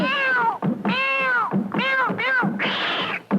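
Cat-like meows, several drawn-out wailing calls in a row, ring out within a sung Hindi film song with musical backing.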